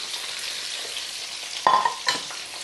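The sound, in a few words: food frying in a pan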